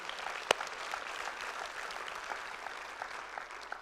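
A church congregation applauds together, steady mid-level clapping throughout with one sharper clap standing out near the start.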